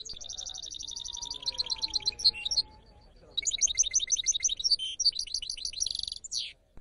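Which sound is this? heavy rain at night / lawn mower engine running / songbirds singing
songbirds singing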